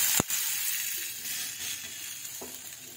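Mixed vegetable paratha sizzles steadily in a pan over medium heat after being flipped, a dense, continuous hiss with a sharp clatter near the start and a light knock toward the end, with no voices.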